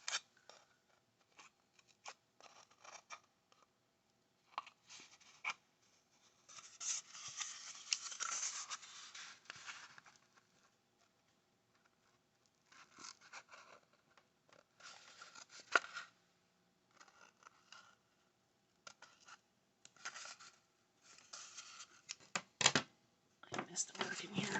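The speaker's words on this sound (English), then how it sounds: "Then I'm just using some cheap scissors." Inexpensive scissors snip through yarn in quick bursts of crisp clicks and rasping cuts, close and fairly quiet, scattered with pauses, alongside some light handling noise.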